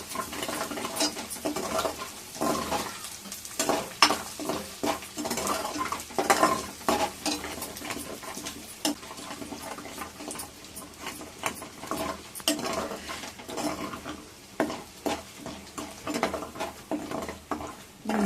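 Ginger paste fries in oil in a pan and is stirred until golden, with a soft sizzle under repeated scraping and clinking of a spoon against the pan.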